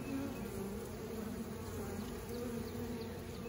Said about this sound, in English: Looks like that bee's doing a waggle dance.